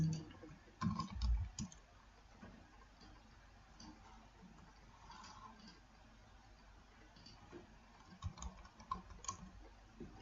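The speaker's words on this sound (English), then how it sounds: "okay, I'm typing and because I need this to be true." Typing on a computer keyboard, faint scattered key clicks in a quiet room, with a few louder taps at the start and end.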